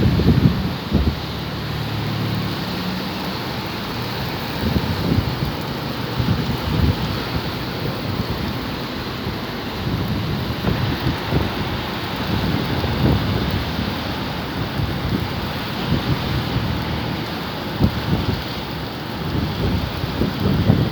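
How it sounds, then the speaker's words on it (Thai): Heavy rain in a Bangkok summer storm, a dense, continuous roar of downpour with gusty rumbling and wind buffeting the microphone, steady and loud throughout with no voices. "นี่คือสายฝนกรุงเทพมหานครนะครับ"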